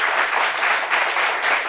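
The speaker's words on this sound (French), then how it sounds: "on a le public qui est là, un chaleureux public, qui va s'applaudir bien sûr" Warm audience applause from a live studio crowd, dense even clapping with gentle swells, continuous and fairly loud for a short stretch.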